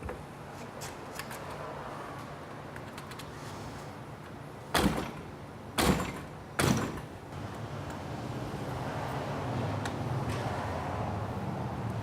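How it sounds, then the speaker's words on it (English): A firefighter taps a flat-blade screwdriver into a door lock to force the keyway out, giving three sharp, separate knocks spaced about a second apart over steady background noise. "what we're trying to do is we're trying to actually force that keyway out of the door"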